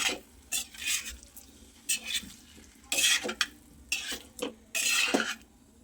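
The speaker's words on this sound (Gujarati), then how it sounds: "હવે બધું સરસ મિક્સ કરી લઈએ." Spiced potatoes in a masala chutney, Dhoraji-style bhungla bateta street food, are stirred in a pan with a spoon, giving repeated scraping sweeps in bursts over a faint sizzle, close and alone with no voices.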